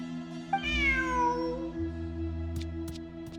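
A single drawn-out cat meow, clear and close, rising then falling in pitch, with a low steady hum underneath and a few faint clicks afterward.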